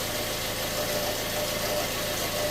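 Car engine idling before a timing chain replacement: a steady, even mid-pitched drone with faint hum, close and continuous, no revving and no voices.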